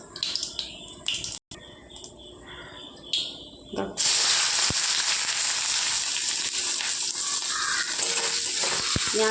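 Sliced onions hit hot oil in a wok and erupt into a loud, dense sizzle that holds steady for several seconds, following quieter kitchen clatter and a few small clinks at the start.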